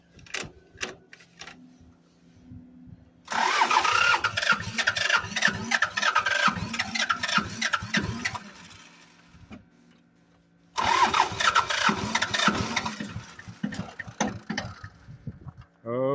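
1984 Toyota Tercel SR5 4WD with glow plugs cranking over twice, rhythmic starter churning in two long loud attempts separated by a quiet pause, close up.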